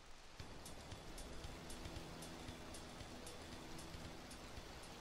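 Steady, dense rain hiss in the video game GTA 3 Definitive Edition, starting abruptly and continuing evenly, with faint regular ticking patter on top.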